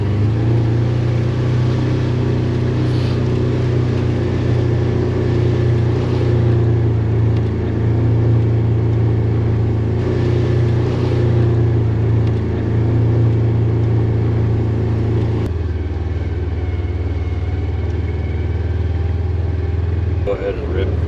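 Polaris Ranger XP1000 Northstar Ultimate utility vehicle driving fast, a loud continuous engine drone and rumble with a shift in tone near the end, and people speaking under the noise.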